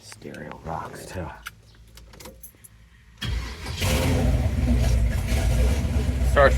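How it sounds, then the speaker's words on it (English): A 1971 Chevrolet Nova with a freshly built 454 V8 is cranked, catches and starts, then settles into a loud, rumbling idle with a rev at the end; someone speaks briefly before the starter engages. "Starts right up. Let me touch the gas."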